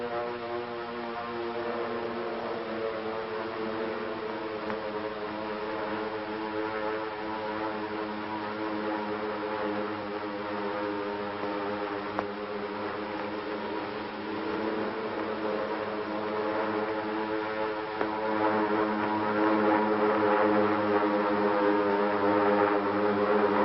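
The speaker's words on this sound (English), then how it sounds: "the drone of planes was faintly heard" A distant propeller aircraft drones steadily over Pearl Harbor on December 7th, a layered humming tone that holds unbroken and fairly faint throughout, swelling slightly toward the end.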